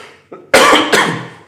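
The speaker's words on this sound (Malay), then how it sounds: "sorry banyak batuk" A man coughs twice in quick succession during a podcast conversation, the loud harsh bursts close and clear, preceded by a brief softer throat sound.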